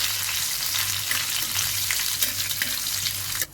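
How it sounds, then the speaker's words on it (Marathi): Cumin, mustard seeds, finely chopped curry leaves and two dried red chilies sizzling in hot oil in a pan, a dense, continuous crackling fry, close and steady throughout. "त्यामध्ये जिरं, मोहरी, मी कढीपत्ता बारीक कापून घेतलाय, त्यामध्ये 2 सुक्या लाल मिरच्या घेतल्या। आता आपण परतूया।"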